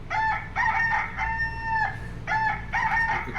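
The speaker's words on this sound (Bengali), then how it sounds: "cock মোরগ" A rooster crows loud and close in repeated drawn-out cock-a-doodle-doo calls, with brief pauses between them. A sustained high tone sounds partway through.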